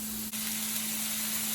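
Meat is stir-fried in a pan as part of a freezer-meal cook, giving a steady, close sizzling hiss over a faint electrical hum, with no voices.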